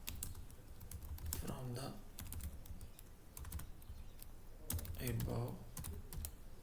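Typing on a computer keyboard comes in two quick bursts of close, crisp key clicks, with scattered single taps between them, under soft talk.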